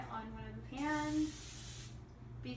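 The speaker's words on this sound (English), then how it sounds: "she's going to spray the cooking spray onto the pans" Cooking spray hisses onto cake pans in a steady burst lasting about a second, close and fairly loud over a low background hum, with a voice talking before and after.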